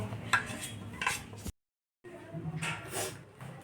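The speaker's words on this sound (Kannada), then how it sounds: "ಈಗ ಇದನ್ನು ನೀಟಾಗಿ ಮಿಕ್ಸ್ ಮಾಡಿ ಇಟ್ಕೋತೀನಿ" Salted ingredients being stirred in a metal pot, with spoon scraping and clinks against the sides in short bursts, a brief silent gap midway, and faint voices in the background.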